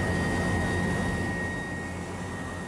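A military helicopter during an army capabilities demonstration roars steadily overhead, a loud continuous engine and rotor drone that fades slightly toward the end, with no voices.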